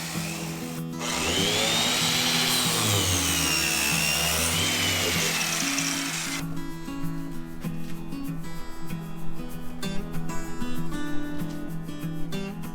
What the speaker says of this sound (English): I'll cut a groove for the wall to enter.